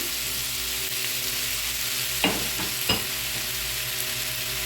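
Potato, carrot and tomato fry with onion in a pan, a continuous sizzle with a low hum beneath and a couple of distinct spatula scrapes and knocks as the vegetables are stirred.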